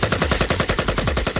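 Rapid automatic rifle gunfire from the visual novel I/O, a fast, even burst of about a dozen close, loud shots in quick succession, alone.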